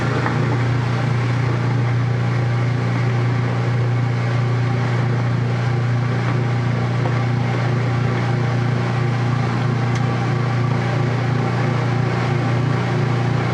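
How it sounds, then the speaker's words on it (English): A washing machine's transmission runs during the wash cycle in a room whose walls and floor make it echo, producing a loud, steady low hum and drone that continues unbroken with no talk. "I love how the transmission sounds on this one."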